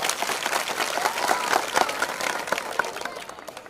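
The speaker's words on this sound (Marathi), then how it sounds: "टाळ्या वाजवा त्यांच्याकरता" A crowd at an election campaign rally beside a temple bursts into sustained applause, dense and steady clapping that carries on for several seconds, with a voice faintly audible beneath.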